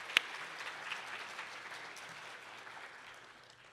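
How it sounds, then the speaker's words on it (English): Applause at an award ceremony rises from a sharp opening clap into a thin, fairly distant patter of many hands that slowly fades toward the end. "Let's give them an applause."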